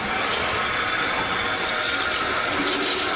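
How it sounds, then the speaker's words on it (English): Cold tap water pours into a laundry sink during home brewing of an Irish stout, a steady, close, rushing hiss with no pauses and no talking. "I'm going to fill the sink with cold water"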